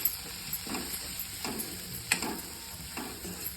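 Garam masala and coriander powder are mixed in a hot pan for a bitter gourd dish, giving a soft sizzle with a few spaced spoon scrapes and stirring strokes, close and fairly quiet.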